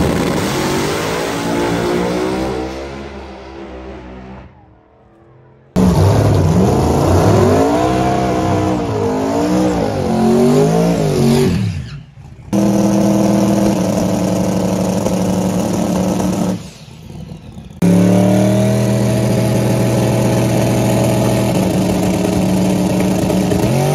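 A supercharged blower Pro Mod drag race car engine roars loudly at the strip before a first-round elimination pass, with three long, harsh revving bursts broken by short drops in power, no talk.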